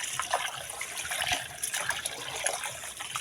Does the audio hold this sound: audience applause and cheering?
no